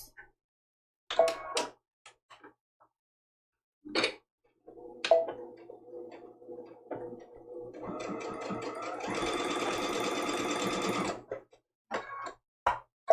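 A home sewing machine stitches the seam of a small quilted peppermint stick mug rug, running in a few short starts before a steady, louder burst of whirring, with faint clicks and handling sounds between.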